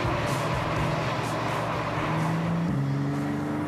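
A BMW convertible with an engine tuned to 380 hp sends out a steady, fairly loud engine note from close by, holding an even, sustained hum the whole time with a slight change in pitch near the end.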